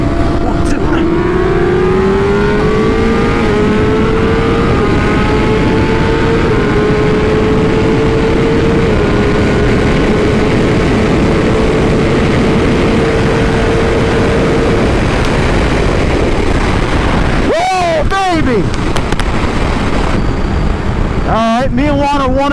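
A Kawasaki ZX10R and a BMW S1000RR motorcycle accelerate hard, their engines climbing in pitch through a long, loud pull with wind roar. Near the end come quick upshifts.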